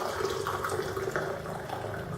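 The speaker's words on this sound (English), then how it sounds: "I put my hot water in there." Hot water pours steadily into a glass while making Thai iced coffee, giving a continuous close splashing and trickling rush that holds for about two seconds without any talk.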